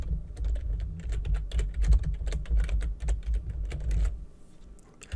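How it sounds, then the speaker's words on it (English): Rapid clicking keystrokes on a computer keyboard as a chart title is typed, a close, steady patter of taps with brief pauses and no talk. "Once you're done typing in the title"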